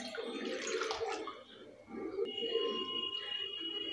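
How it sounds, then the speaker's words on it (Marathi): Water from a jug splashes into a wok that is heating for boiling eggs, a close, steady gush that fades. A thin tone follows briefly, with no speech. "1 तांब्या पाणी ओतत आहे"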